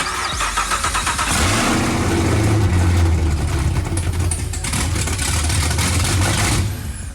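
An LT4 V8 in a 1967 Chevrolet Camaro starts up and revs hard, a loud, deep, rough roar that holds steady for several seconds before dropping off near the end.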